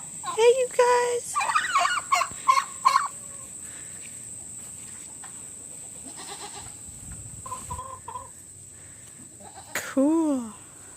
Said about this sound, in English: It's a walk of the turkeys.